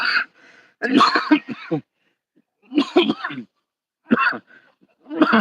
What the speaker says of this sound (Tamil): இருமல் வந்துச்சு